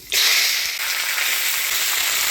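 Vegetables hit hot oil tempered with dried red chilli and nigella seeds, bursting into a loud, steady sizzle close up that holds without pause.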